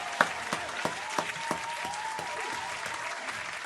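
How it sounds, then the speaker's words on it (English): A round of applause among a small group of men, with sharp separate claps standing out over background chatter and room noise, fairly close and uneven in rhythm. "Round of applause to them"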